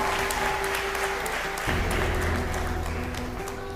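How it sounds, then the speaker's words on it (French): Loud, sustained clapping from an audience at a talent show finale, dense and continuous, with a low steady hum running beneath it. "Ça s'applaudit s'il vous plaît"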